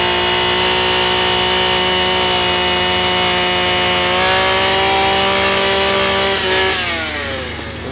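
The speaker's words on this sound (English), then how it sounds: "Drilling the hole straight takes practice." A gas-powered drill bores through a wooden utility pole with a loud, sustained engine drone, its pitch shifting as it labors and then easing off toward the end.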